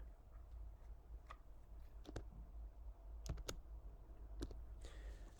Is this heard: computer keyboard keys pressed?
yes